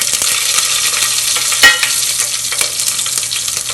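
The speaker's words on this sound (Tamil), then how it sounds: "பொரிஞ்சு முடிஞ்ச உடனே பச்சை மிளகாய் போடுங்க." Green chillies fry in spluttering seasoning oil with urad dal, a loud dense crackle and hiss close by, with one sharp clatter partway through and no voices.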